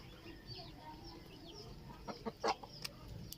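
Native backyard chickens, some with colds, give a few soft clucks and short calls over steady farmyard background noise, with a brief cluster of louder notes near the end.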